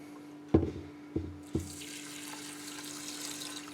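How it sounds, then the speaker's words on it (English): Water runs from a tap into a bowl of rice, grains and lentils: a few knocks and clinks of the bowl come first, then a soft, steady pouring rush fills the rest, close and without talk. "and top it up with water"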